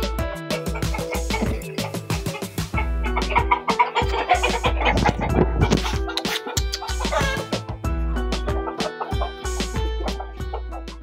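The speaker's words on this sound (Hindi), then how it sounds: "और ये देखें यहाँ पर हमारे देसी मुर्गे हैं" Native desi hens clucking and chattering nearby, with short overlapping calls in a busy, continuous flock sound.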